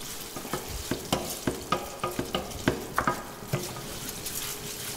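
Rice toasting in hot oil in a pan over high heat for a courgette and mint risotto, stirred in a quick irregular series of scraping, crackling sizzles, close and moderately loud, with no talk.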